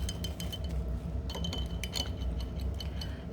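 A paintbrush is rinsed in a water container and blotted while painting a pumpkin with sponged color, making light, scattered clinks and taps against the container up close over a low background rumble.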